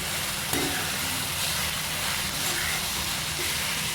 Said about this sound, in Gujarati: ઘડીક આપણે તેલમાં આને ચડવા દઈશું